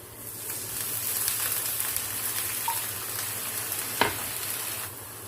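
Onions and garlic frying in a pan, for an arvi masala, with a little water just added, giving a steady close sizzle and crackle with a brief louder burst of spitting partway through.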